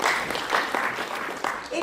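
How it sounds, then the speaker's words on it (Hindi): Audience applause welcomes a music composer onto the stage at a theatre play event, a dense, steady wash of clapping lasting throughout, with a voice faintly audible under it. "इनका जोरदार तालियों से स्वागत कीजिए रंजीत पंथी,"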